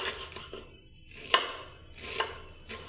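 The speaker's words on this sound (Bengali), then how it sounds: "দেখুন বন্ধুরা এবার আমি ক্যাপসিকামটা কেটে নিচ্ছি।" A knife cuts through capsicum on a board in a few soft, spaced chops, three or four quiet strikes close by with pauses between, and no voices.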